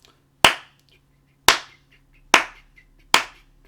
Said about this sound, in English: I would like you to go through and clap the rhythm again